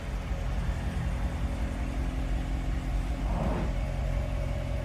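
A 2018 Corvette engine idles with a steady low rumble while backing out, rising briefly in a short rev near the end, with no voices.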